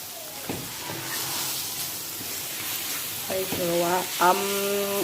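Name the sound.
frying garlic and green spices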